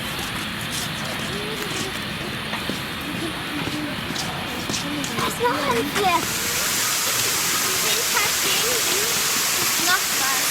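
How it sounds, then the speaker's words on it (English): Wave machine in a pool at Europa Park theme park in December, a steady broad rush of churning water with surges, loud and continuous, mixed with crowd murmur and voices. "they have like a wave machine down the bottom here to sort of make it feel like you're actually at the sea"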